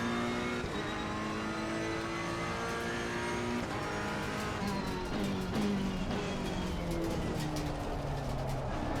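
A race car engine in a racing sim revs hard and accelerates out of a turn, a loud, close engine note climbing and shifting through gears for the whole stretch.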